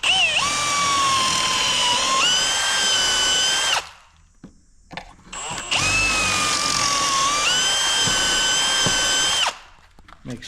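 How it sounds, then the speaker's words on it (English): A power drill boring pocket holes through a Kreg jig while siding parts are prepared for a lakehouse build: two loud, sustained whining bursts of several seconds each, close by, split by a short quiet gap. "now we're going to put the pocket screws in."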